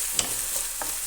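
Tomatoes and masala stirred in a pan for a Karnataka-style mixed vegetable curry, a soft continuous sizzle with two light spatula taps, close and quiet.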